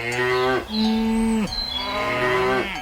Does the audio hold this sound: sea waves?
no